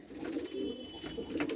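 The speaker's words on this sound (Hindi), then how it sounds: "ये देखिए भाई कबूतर की क्वालिटी आप लोग" A tumbler pigeon coos softly in a few low, rolling phrases, faint and close with no talk over it.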